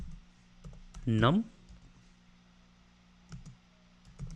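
Light clicks from a computer keyboard while code is typed, soft and sparse beneath someone talking.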